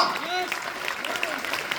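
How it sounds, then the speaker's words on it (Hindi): Audience applause in a hall during a network-marketing talk, a soft, steady patter of clapping that runs through the short stretch, with a faint overhead hum and no speech. "एक बार ताली बजा दो उसके लिए"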